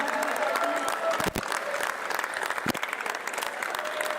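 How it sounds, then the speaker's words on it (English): An audience at the final of a poker tournament in Bali applauds in a sustained roar of clapping that fills the room, with a few louder claps and a voice faintly heard beneath it. "give yourself a big round of applause"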